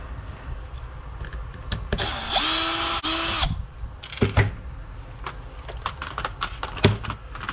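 A power drill whirs in a short, loud burst while backing screws out of an RC car body, surrounded by close clicks and handling knocks from the tool and plastic parts.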